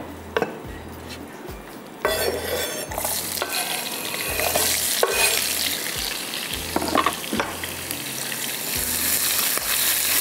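Cubed onions sizzle in a pan over a high flame, a loud continuous frying hiss punctuated by sharp metallic scrapes and clinks of a spoon stirring against the pan, with no voices.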